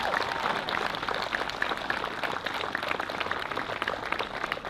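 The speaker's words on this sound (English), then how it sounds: "One more round of applause for our law enforcement officers up here." A crowd at an outdoor Memorial Day dedication applauds law enforcement officers with steady, dense clapping that holds at a moderate level throughout, with no voices over it.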